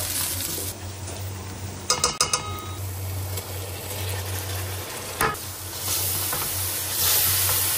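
Onion-tomato masala frying in a pan in a home kitchen, a steady sizzle and hiss broken by a few sharp clinks of a utensil stirring, growing louder near the end.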